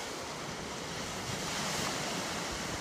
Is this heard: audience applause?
no